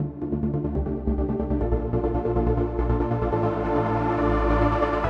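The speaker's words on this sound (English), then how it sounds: "this huge pad sound is using a really handy feature, the trusty trance gate." A huge, dense synth pad from the Chro-Nyx hardware-modeled plugin, chopped by a trance gate into a steady throbbing pulse, with rich low harmonics and brightness that opens up over about five seconds, with no voices.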